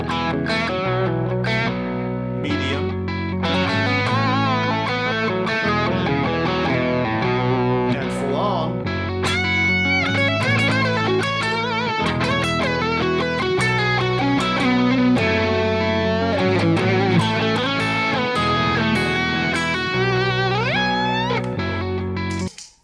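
Telecaster electric guitar played with a cleaner tone, volume knob rolled back, chords and lines ringing steadily and fairly loud for about twenty seconds with no talking.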